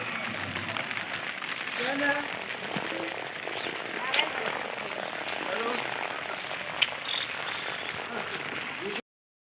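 Steady rain patters on surfaces in a constant wash of hiss, with a couple of faint clicks standing out.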